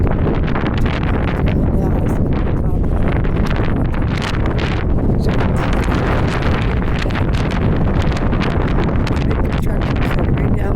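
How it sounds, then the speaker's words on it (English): Strong wind roars and buffets the microphone continuously on a downtown city street, loud and unbroken throughout. "the wind's blowing, but we're going to try to get down here"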